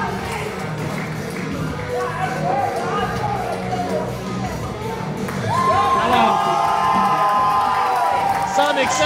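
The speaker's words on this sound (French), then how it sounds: "Avec une grosse acclamation de la foule." A wrestling crowd cheers and whoops for a performer, with shouts and scattered voices building into louder sustained cheering in the second half.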